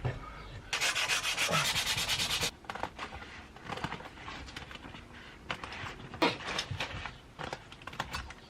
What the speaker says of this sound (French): maintenant on va s'occuper de mettre la lime